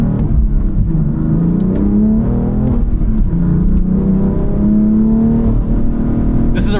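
A 2017 BMW M3 F80 engine runs loud and close, its pitch rising and falling as the drive mode shifts from Sport Plus to Comfort, with a brief sharp click near the end.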